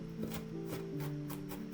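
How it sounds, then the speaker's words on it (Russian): Knife chopping onion on a board, a quick run of crisp, evenly spaced cuts, close and fairly soft, over background music. "А пока курица жарится, быстро нарезаю лук."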